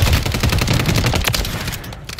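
Sustained automatic gunfire in Call of Duty Warzone, a loud, dense rattle of rapid shots rolling continuously for a couple of seconds before easing slightly, with no talk over it.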